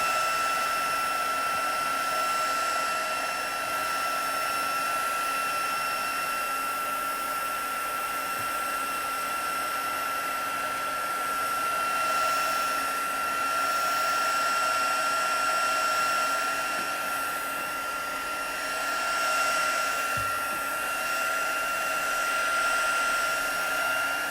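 A hair dryer drying watercolour paint on an elephant painting, a loud steady whirring blow running unbroken and close for the full length, with no talking.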